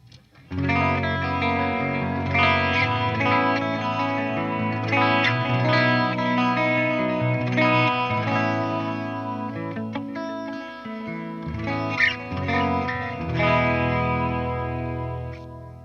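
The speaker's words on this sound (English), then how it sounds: "actually a very nice clean channel" Clean electric guitar through the clean channel of a Randall Satan 50 amp, coil tap off, playing sustained chords and melodic lines with a shimmering, echoey tone, continuous and fairly loud, with no talking.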